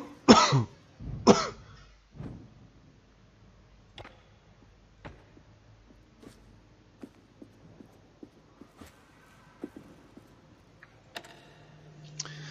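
A person coughs twice in quick succession, close and loud, followed by a fainter throat-clearing cough, then quiet clicks and small taps from a LIGHTMATTER gameplay session.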